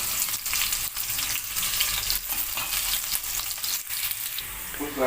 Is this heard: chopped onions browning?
yes